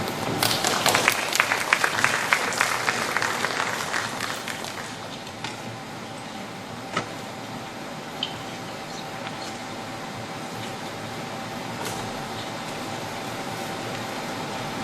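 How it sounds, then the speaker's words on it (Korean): Audience applause at a Korean hanok construction forum, loud and dense for the first few seconds, then thinning into scattered claps and room noise. "박수로 맞이해 주시기 바랍니다"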